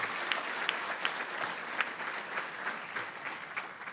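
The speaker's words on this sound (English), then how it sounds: "Now let's give a round of applause to all our agronomy and horticulture students." Audience applause for graduating agronomy and horticulture students at a spring college ceremony: a steady, continuous wash of many hands clapping from a large crowd, sustained evenly for the whole stretch with no voices over it.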